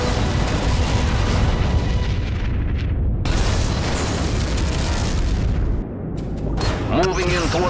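Borg vessel exploding in Star Trek Legacy, a dense, loud rumbling blast that roars continuously with bursts and booms, a clear break midway, and a short electronic sound at the end.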